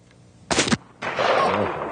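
A powerful .44-caliber gun fires at a jug: one sharp, loud blast, then after a short pause a longer, rougher burst of impact and spray noise.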